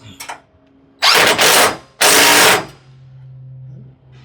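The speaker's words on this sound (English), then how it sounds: "I'm gonna go ahead and tighten up on that center nut and bolt." Nut and bolt on a through-frame slide rack arm being tightened, two loud close bursts of rapid power-tool ratcheting separated by a brief pause, followed by a low steady hum.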